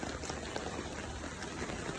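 Storm runoff from heavy rain in Sydney pouring into a drain by handball courts, a steady, faint rushing and gurgling of water with scattered splashes throughout.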